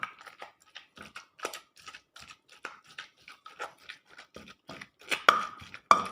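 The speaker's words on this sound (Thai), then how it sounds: "โขลกครับผมโขลกโขลกปลาให้แหลกนะครับ" Canned sardine pieces pounded in a mortar with a pestle for a Thai sardine chili paste, giving a steady run of close, dull thuds and knocks, a few sharper hits near the end, with no talking.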